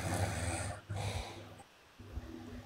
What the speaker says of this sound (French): Qui ronfle là?